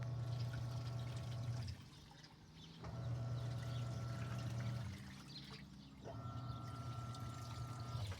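Panasonic washing machine with a heavy load draining water before its spin cycle, a steady rushing flow with a low hum that pauses and restarts in three long bursts.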